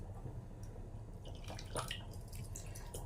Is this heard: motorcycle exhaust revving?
no